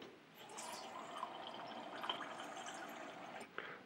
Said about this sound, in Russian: помещаем в посуду и заливаем хорошей водой